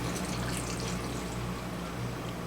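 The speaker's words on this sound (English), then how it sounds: "And I just have some warm tap water. And I'm going to fill that up." Warm tap water running into a canning jar, a steady close hiss and gush of pouring liquid throughout.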